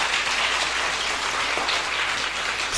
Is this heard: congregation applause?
yes